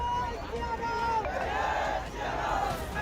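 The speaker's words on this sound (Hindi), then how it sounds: "सैकड़ों की तादाद में सड़क पर पहुंचकर भीड़ ने सड़क जाम कर दी और अब नारेबाजी हो रही है।" A street protest crowd blocking a road shouts slogans against police, a raised mass of voices in rising and falling chant-like calls, loud and continuous with no single speaker standing out.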